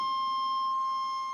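An old aftermarket anti-theft alarm in an old Chevy truck gives off a steady, piercing electronic tone, holding continuously at close range with no talking.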